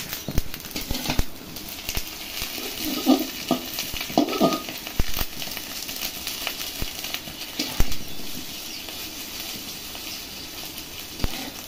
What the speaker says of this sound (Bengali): ডিমটা প্রায় ভাজা হয়ে গেছে।